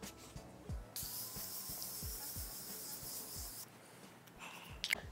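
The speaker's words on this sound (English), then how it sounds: "the last step is setting spray, and I'm gonna be using the Morphe Continuous Setting Mist" A long continuous hiss of Morphe Continuous Setting Mist makeup spray misting for a few seconds, close and steady, with faint tapping and handling sounds around it.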